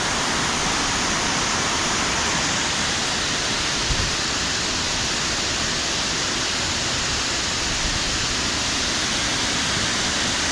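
The Gayle waterfall pours down a green slope into a splash pool, giving a steady, dense rush of falling water that fills the whole stretch without pause. No voices are present.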